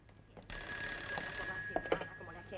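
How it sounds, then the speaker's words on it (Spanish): A telephone bell rings steadily and fairly close indoors, a continuous bright trill with a few short clicks and knocks near the end and no talk over it. "El teléfono, están llamando,"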